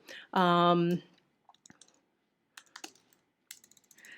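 Sparse, quiet keystrokes on a computer keyboard come in small clusters of clicks over a few seconds. Before them, a short, loud tonal sound plays alone.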